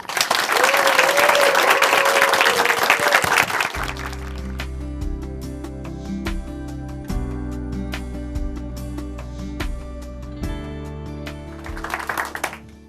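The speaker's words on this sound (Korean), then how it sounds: "춘천 한마음교회 손미화 자매님 큰 박수로 모시겠습니다" Church congregation applauds to welcome a woman from Chuncheon Hanmaeum Church giving her testimony, a loud dense burst of clapping for about four seconds, then music takes over and brief clapping returns near the end.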